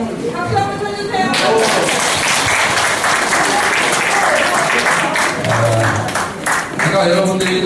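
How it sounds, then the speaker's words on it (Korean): Audience at a redevelopment association members' briefing breaks into loud, dense applause that fills the room, building quickly and holding steady for several seconds before easing slightly, with a voice audible at the edges. "박수 한번 쳐주세요."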